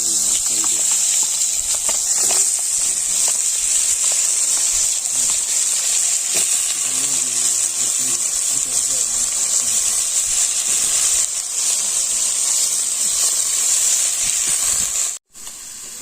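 Cut potatoes hit hot oil seasoned with panch phoron spices and sizzle in a loud, steady hiss that lasts throughout, with a person talking over it before a brief drop near the end.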